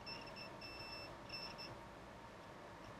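A multimeter's continuity tester beeps on the ground pin of a power strip, giving short high electronic tones in quick bursts, then a pause and a faint final chirp, with no talking.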